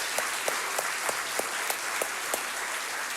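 A small group claps steadily for a few seconds, light and even, with no voices on top, at a Baldur's Gate 3 gameplay showcase panel.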